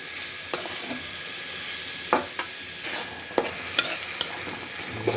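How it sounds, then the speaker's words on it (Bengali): Mashed dried fish being stirred and mixed together with cooked greens, giving a series of scattered wet scraping and clacking strokes at irregular intervals over a faint, steady background hiss, with no talking. "শাকের সাথে শুটকি ভর্তাটা একসাথে মিশ্রণ হবে"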